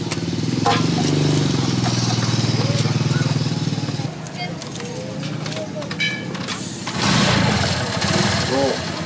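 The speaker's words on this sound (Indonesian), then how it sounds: "Motor gua udah nyala" A motorcycle engine sputters into life and settles into a loud, chugging idle close by, its rumble dipping midway then swelling again, with people talking over it.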